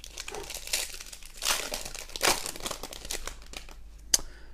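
The plastic wrapper of an MTG Core Set 2019 booster pack crinkles and crackles up close as it is torn open, with a series of soft rustles and a sharp snap near the end.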